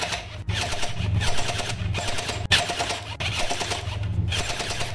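A Kriss Vector-style gel blaster toy SMG fires continuously in a fast, buzzing mechanical rattle, with short breaks between bursts, close and loud.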